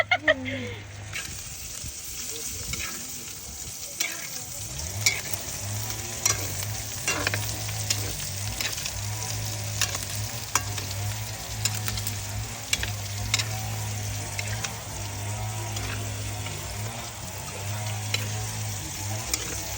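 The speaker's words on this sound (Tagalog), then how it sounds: "Luto tayo ng pansit" Pancit noodles being stir-fried in a pan in a rural Philippine home kitchen, a steady sizzle with repeated scraping and tapping of a utensil, while people chat intermittently in the background.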